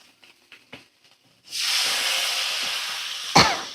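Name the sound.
water poured into a hot pan of frying spices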